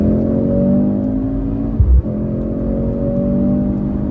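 A 2024 Mercedes-Benz C63 AMG accelerates hard with a steady, loud engine drone that breaks briefly for a gear change before pulling again, with no talking.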